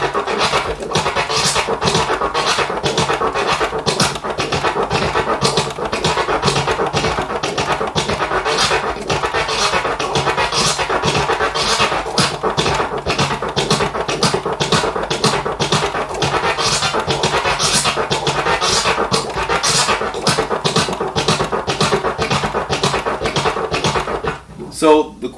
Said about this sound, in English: that's why the crescent flare can be kind of difficult